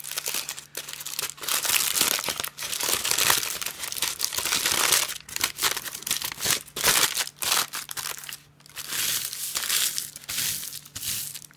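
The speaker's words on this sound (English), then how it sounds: "Scrunch it up into a little ball." A sheet of paper is scrunched into a small ball by hand, giving continuous close crinkling and crackling with short bursts and brief pauses, and no voices.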